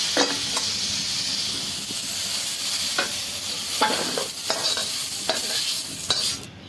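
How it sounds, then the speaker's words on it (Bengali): Potatoes and kochra fry in a wok with a steady close sizzle, broken by several scraping stirs of a spatula that come more often toward the end, with no voices. "আলু আর কচড়াটাকে ভালোভাবে ভেজে নিয়েছি।"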